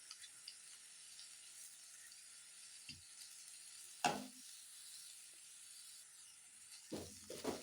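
An egg paratha filling of egg, fried onion, masala and coriander leaves sizzles steadily in a pan, with a few soft scraping stirs and knocks over the hiss and no voices.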